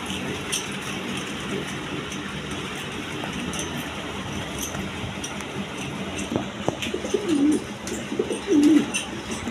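Large high-flying Giribaz pigeons coo softly in a loft, with a few low, faint coos rising near the end over a constant background hum and light clinking.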